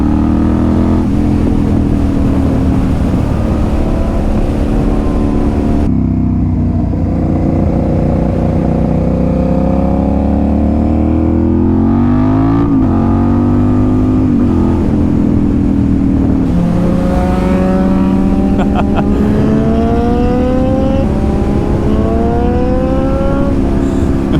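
A new motorbike engine revs repeatedly, pitch rising and falling through several throttle blips, loud and close with a steady mechanical drone underneath throughout.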